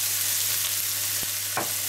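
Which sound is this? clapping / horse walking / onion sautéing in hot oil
onion sautéing in hot oil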